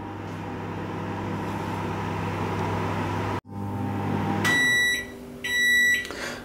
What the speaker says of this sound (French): Donc je le mets donc au micro-ondes